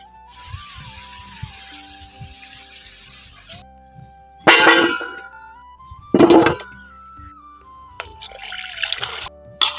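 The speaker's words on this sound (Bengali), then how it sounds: "এখন ধুয়ে নেব পরিষ্কার করে।" Two raw mangoes are washed clean under running water in a home kitchen for a Bengali chutney. A tap trickles steadily, broken by splashy bursts of water against the fruit.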